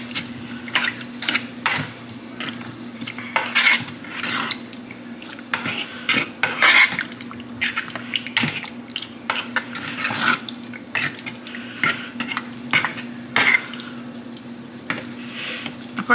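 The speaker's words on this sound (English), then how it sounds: "I'm gonna stir it up. Make sure it's all nice and coated." Large apple pieces are stirred in a pan to coat them, making repeated clinks and scrapes of a utensil against cookware with soft wet shuffling, close and irregular, with no talking.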